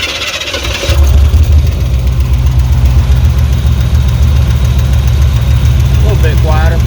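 A truck engine starts and settles into a loud, steady idle close by, with a faint rapid tapping from a lifter running under the rumble and a voice briefly heard near the end.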